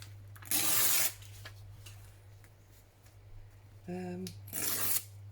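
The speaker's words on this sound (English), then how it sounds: "let's just tear down there to start with" Paper torn by hand for a stamped collage, two short, close ripping bursts with a brief voiced sound between them, over a quiet background hum.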